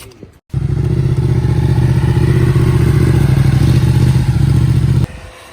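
A 2019 Ducati 959 Corse sportbike with Ohlins suspension fires up and pulls away, its loud, steady mid-pitched engine drone holding close and constant for several seconds before cutting off abruptly.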